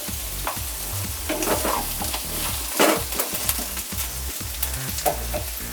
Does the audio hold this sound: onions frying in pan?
yes